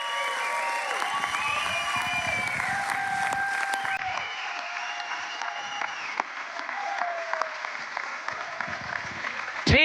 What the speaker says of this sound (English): Can we get on our feet and give them a round of applause?